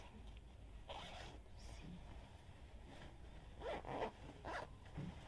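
A zipper on the back of a silky dress is pulled in several short, quiet scraping runs, bunched toward the end and heard up close in a hushed room.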